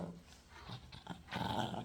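A young dog growling while being brushed during grooming, low rumbling growls in short bursts, close and fairly quiet.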